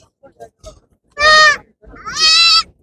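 Two loud goat bleats at a livestock market, one after the other, each a drawn-out wavering cry, with faint scattered sounds in the background before them.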